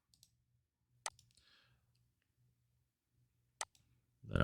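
Two sharp, isolated mouse clicks about two and a half seconds apart, with a faint low hum between them, made while starting services in Hyper-V on a computer.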